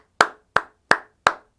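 Four crisp hand claps, close and evenly spaced at a steady rhythm, each ringing out briefly against silence with no voices.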